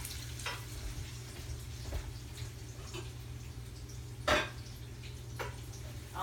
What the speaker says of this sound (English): I'm going to put this meat in there and brown this meat